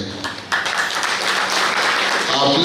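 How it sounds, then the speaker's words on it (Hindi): A crowd at a meeting with a Hindu spiritual leader claps in agreement, building quickly into loud, sustained applause that fills the space while a voice carries on underneath. "आपने ताली बजा करके सम्मति दिया"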